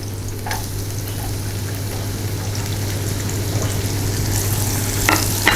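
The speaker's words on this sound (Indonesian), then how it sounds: "kita tumiskan dulu bawang putih, bawang merah, dan bawang bombay" Garlic, shallots and onion sauté in hot oil for a spicy-sour gourami dish, giving a steady, close crackling sizzle throughout over a low electrical hum, with no talking.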